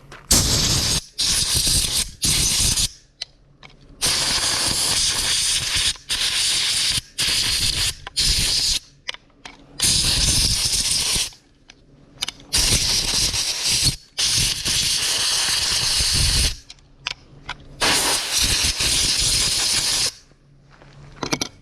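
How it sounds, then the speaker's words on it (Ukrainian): Compressed air blasting dust out of a chainsaw's side cover in loud, close, hissing bursts that start and stop repeatedly, with short quiet gaps between them. "перше беремо цю кришку і видуваємо з усіх закутків все, що тут тільки є"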